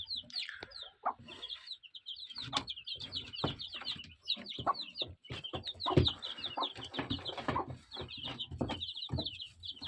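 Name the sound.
hen and chicks clucking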